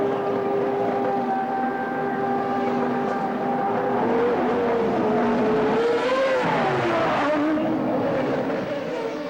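CART Champ Car open-wheel race cars at Vancouver in 2002 scream past on the street circuit, a loud continuous engine drone with a rising and falling pitch as the cars pass close by and move away.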